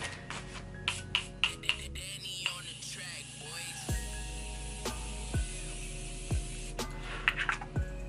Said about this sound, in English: I love this spray. The mist is so fine